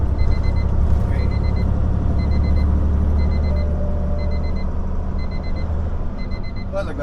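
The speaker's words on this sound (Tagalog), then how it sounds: "Nag-alarm na yung alarm ko." An alarm beeps inside a truck cab while driving, a steady series of paired electronic beeps repeating about every second, moderately loud over the deep rumble of the truck's engine and road noise.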